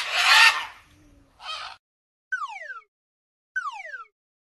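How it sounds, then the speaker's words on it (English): A parrot calls after a brief noisy burst: two short, squawky descending cries, separated and clear against silence. "Parrot."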